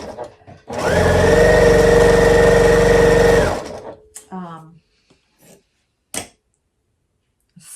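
A sewing machine stitches a quilt block in one loud, steady run of about three seconds, then stops, leaving quiet handling noises and a few faint sounds.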